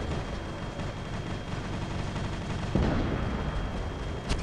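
Weapons fire in a mech combat video game, a dense continuous barrage of booming shots with a heavier impact near the end, loud throughout.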